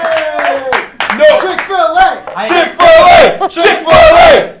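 A wrestling podcast audience erupts into loud cheering and shouting for a chicken-eating stunt, rising in bursts over several seconds with voices yelling above the crowd noise.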